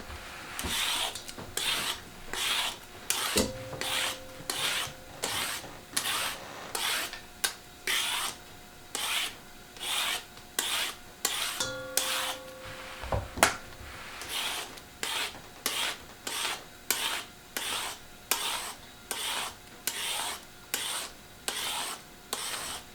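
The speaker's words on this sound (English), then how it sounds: "Making sure to peel all the way from the top to the bottom." Carrots are peeled with a vegetable peeler for chicken stock, a steady series of quick rasping scrapes in even rhythm, close and fairly quiet, with no talk.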